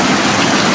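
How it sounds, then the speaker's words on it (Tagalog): Heavy rain pours down hard in the Philippines, heard from under shelter as a loud, dense, steady roar close by, with no voices. "Ang lakas ng ulan."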